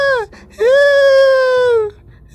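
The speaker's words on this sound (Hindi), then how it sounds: "तेज रोने की आवाज़ सुनाई देने लग जाती है" Cartoon-style loud wailing cry from inside a well, two drawn-out sobbing bursts with a short break between, close and alone.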